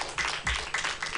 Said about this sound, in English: Want to clap for me also?